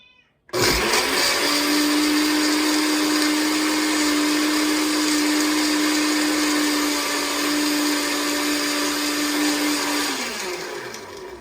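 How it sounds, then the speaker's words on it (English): A blender crushing ice roars loudly at high speed for about ten seconds, a dense steady whir with a constant hum, then winds down at the end. "Now we want to put it on high and blend away."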